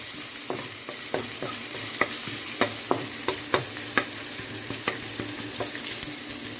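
Garlic and onion sizzle in hot oil with a constant hiss, broken by a run of light regular taps and scrapes as they are stirred, close and steady.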